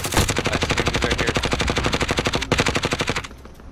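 Rapid automatic gunfire in a video game shootout, a loud close stream of sharp shots at a fast even rate that breaks briefly and resumes before cutting off.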